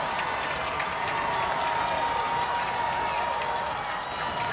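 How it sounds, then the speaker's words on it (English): Football crowd at a Valley View Cougars home game in Peckville, on their feet and cheering and clapping in a steady, loud roar that holds throughout, with a broadcast commentator's voice faintly over the top. "Crowd getting loud here in Valley View"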